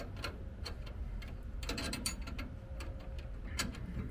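A hand ratchet clicks in quick, uneven bursts while tightening bolts on a 1949 Chevrolet being lowered, the crisp metallic ticks close by and fairly quiet against a low background hum.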